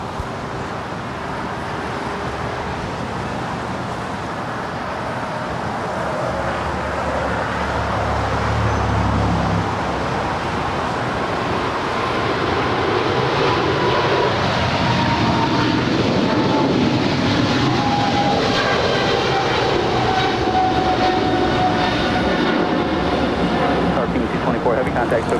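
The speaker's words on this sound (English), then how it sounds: "China Cargo Airlines 224 departing to Shanghai. It's a 777 freighter." A China Cargo Airlines Boeing 777 freighter departs LAX for Shanghai, its engines building into a loud, sustained roar with a falling whine as it climbs away, while people talk throughout.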